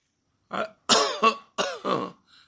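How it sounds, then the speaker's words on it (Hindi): Someone coughs several times in quick, harsh bursts, loud and close, with a brief pause between the first cough and the rest. "अरे अंकल, आपको तो बहुत खांसी हो रही है।"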